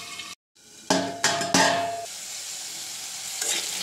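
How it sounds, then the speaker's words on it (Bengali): Potatoes with salt and turmeric are fried in a pan: a spatula clatters and scrapes the metal in a few sharp strokes, then a softer sizzle continues close by. "একটু লবণ হলুদ দিয়ে ভেজে নাও"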